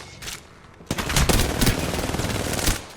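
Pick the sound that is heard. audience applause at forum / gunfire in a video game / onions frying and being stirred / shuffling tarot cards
gunfire in a video game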